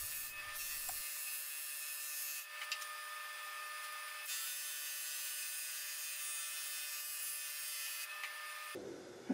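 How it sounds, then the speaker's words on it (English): A steady high-pitched machine whine runs continuously with a faint hum, the abrasive drone of a board sander thinning guitar side and back wood panels, with no talk. "sanding off 2 to 3 thousandths off each surface with each pass through the board sander"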